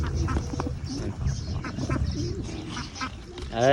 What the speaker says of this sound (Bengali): এই তোরা সর হাসির বাচ্চা সর